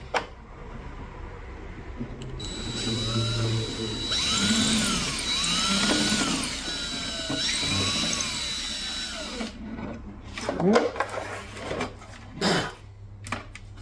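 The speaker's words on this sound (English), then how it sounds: "Now I actually drill it out a touch more." A power drill whirs in several rising and falling bursts, biting into the wood of a classical guitar with a whining pitch, followed by scraping handling noises.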